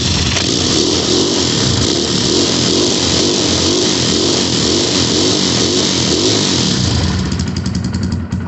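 An Xmotos 250cc dirtbike engine runs cold on choke, a loud, close, steady idle with a fast uneven chugging pulse that holds for several seconds before the rhythm shifts near the end.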